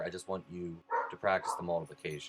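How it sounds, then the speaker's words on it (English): A dog barks indoors in a few short yips that blend into a teacher's steady speech. "Sorry for the dog."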